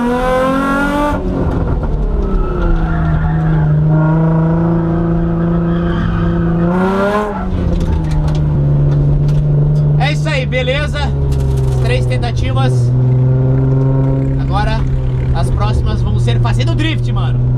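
A car drifts through a corner in a racing game, its engine holding a loud sustained drone that rises and falls with revving, with tire squeal and skidding noise, while someone talks throughout.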